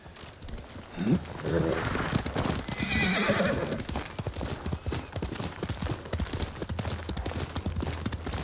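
In Ghost of Tsushima, a horse gives a loud neigh near the start, then gallops with rapid, rhythmic hoofbeats that continue steadily at close range, with no talking.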